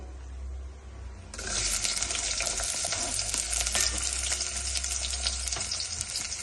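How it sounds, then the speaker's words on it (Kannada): Onions and mustard seeds fry in oil, a steady broadband sizzle that grows sharply louder after the first second and stays dense and close to the end, with a low hum beneath. "ಸಾಸಿವೆ ಹಾಕೊಂಡ್ಬಿಟ್ಟು ನೆಕ್ಸ್ಟ್ ಈರುಳ್ಳಿ ಹಾಕೊಳ್ಳಿ."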